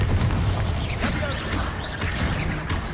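Confringo fire spell blasting in Hogwarts Legacy, a dense, continuous roar of magical combat with repeated bursts and whooshes layered over a deep rumbling bed, loud and sustained throughout.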